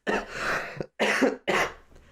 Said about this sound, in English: I'm sorry, I'm coughing a lot.